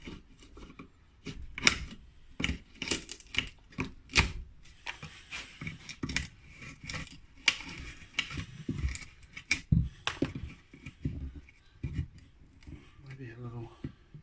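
Chisel working the wood of a Duncan Fearnley cricket bat during restoration, a run of sharp, close scraping and tapping strokes at an irregular rhythm, with voices talking in between.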